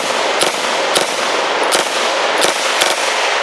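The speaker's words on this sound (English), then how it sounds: "You can burst fire it and have some luck, but boy, does it throw them out." Sharp gunshots crack out in a loose series of five over a steady noisy background as a gun is burst-fired, each report close and distinct.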